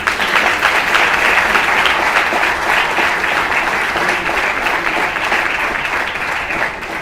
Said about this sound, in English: I think Office deserves some round of applause,